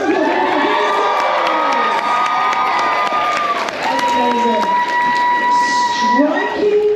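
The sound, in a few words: audience applause and cheering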